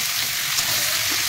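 Tomatoes fry with cumin-chili paste in a pan, a loud, steady, close sizzle with a bright hiss throughout the short moment.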